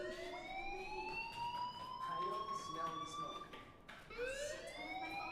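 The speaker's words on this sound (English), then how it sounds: "Hey, do you hear that fire alarm?" Fire alarm in the video game Life is Strange, a rising electronic wail that repeats in long sweeping whoops, steady and fairly loud, restarting after a brief gap, with faint talk underneath.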